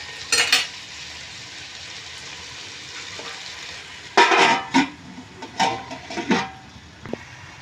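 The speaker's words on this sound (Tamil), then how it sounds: "அதுக்காக உப்பு சேர்த்து கிண்டி விட்டுட்டு ஒரு மூடி போட்டு வச்சிங்கன்னா டக்குன்னு தக்காளி நமக்கு வணங்கிடும்." Tomatoes frying in a pan with salt for chicken biryani, a faint steady sizzle under intermittent scraping stirs of a utensil against the pan, clustered in short bursts toward the end.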